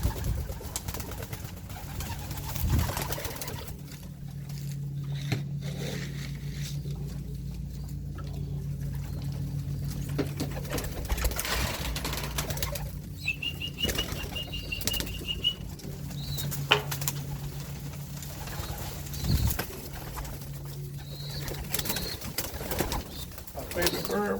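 Pigeons coo steadily in a loft of young birds, with bursts of wing flapping and scuffling close by, while someone talks now and then over the birds.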